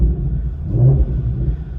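Ford Mustang Shelby GT350 engine with the exhaust in sport mode, a deep rumbling low growl that swells briefly in a short blip of revs, heard close and loud.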